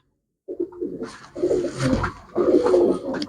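Domestic pigeons kept for sale coo nearby in a steady, overlapping stream of soft throaty murmurs that begins after a brief silence and carries on without pause, with no talking.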